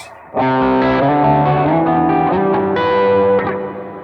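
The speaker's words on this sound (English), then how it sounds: "you can of course go ahead and tweak your pre-delay without any pre-delay. Just add in 50 milliseconds." An electric guitar played through a Jet Pedals Revelation ambient reverb pedal set to 50 ms pre-delay rings out in loud sustained chords, each strum blooming into a wide, washy tail that fades away at the end.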